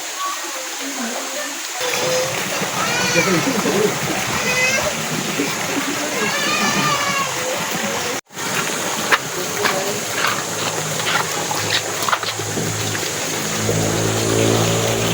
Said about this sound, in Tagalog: sobrang sulit ng falls at saka yung tubig nito, running waters